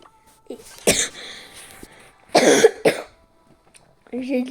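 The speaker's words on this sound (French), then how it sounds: "Et après, j'ai toussé comme un malade." A loud cough rings out, followed later by a rough double cough, with a voice speaking briefly at the end.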